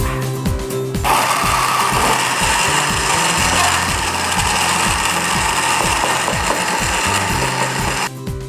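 A blender whirs loudly and steadily for about seven seconds as it mixes instant coffee with sweetened condensed milk, starting and stopping abruptly.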